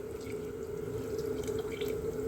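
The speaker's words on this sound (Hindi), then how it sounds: "ये डल गया यहाँ पर पानी" Water poured from two 750 ml steel bottles into a pressure cooker holding a tomato and coriander shorba, making a steady continuous splashing pour of even loudness throughout.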